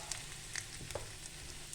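Jackfruit samosa filling frying in a pan with a spoon of chili powder stirred in, giving a soft, steady sizzle with faint crackles and no talking.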